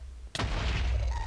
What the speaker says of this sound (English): I'm getting shot at by a ghast.